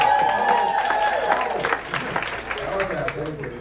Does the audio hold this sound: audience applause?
yes